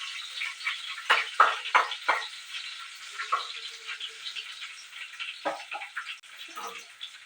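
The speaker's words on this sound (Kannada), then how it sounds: "ಜಜ್ಜಿರೋ ಬೆಳ್ಳುಳ್ಳಿ ಹಾಕ್ಕೊಳ್ತಾ ಇದ್ದೀನಿ. ಸೊ ಅದನ್ನು ಫ್ರೈ ಮಾಡ್ಕೊಳ್ತೀನಿ." Crushed garlic frying in a pan gives a steady broad sizzle, with a few louder crackles and the scrape of stirring spread through it, heard close up with no talk.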